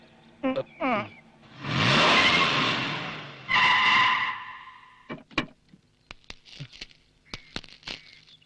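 A car pulls away with a loud surge of engine and tyre noise lasting about two seconds, then fades. Scattered short voices and clatter follow.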